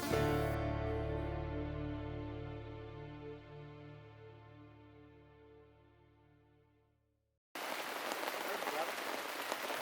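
Light drizzle falls at a family campsite in Pangalengan, a steady soft hiss of rain that takes over abruptly after a long, fading, ringing tone.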